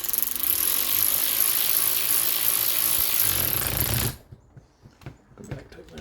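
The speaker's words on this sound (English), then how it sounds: "All right, electric ratchet, 10 millimeter." An electric ratchet tightens 10 millimeter nuts while servicing an SR Suntour fork on a Schwinn Voyageur bicycle, giving a loud, continuous whirring clatter for about four seconds before stopping abruptly, followed by faint clicks and handling noises.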